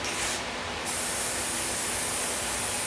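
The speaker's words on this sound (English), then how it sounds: "we're going to spray this adhesive on" A continuous hiss of an aerosol adhesive can spraying onto an assembly board, steady and close, with a brief dip in the first second.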